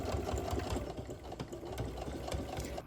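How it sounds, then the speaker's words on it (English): A sewing machine top stitches a pouch made from a dish drying mat, its needle mechanism running in a steady, fast, even chatter close by with a low motor hum underneath, continuous and alone for the whole stretch. "I'm going to top stitch this side now."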